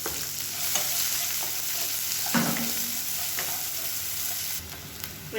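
Finely chopped medium onion fries in a pan for a potato gravy, a close, steady sizzle with stirring scrapes and a few clinks of the spoon.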